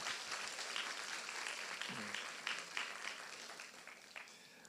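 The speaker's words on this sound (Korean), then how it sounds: "우리 열심히 살고 온 우리 모두에게 응원의 박수 한번 하시겠습니다" Members of a Sunday church worship service clap in encouragement, a soft, scattered patter of applause with a few sharper claps toward the end, heard at a distance and fairly quiet.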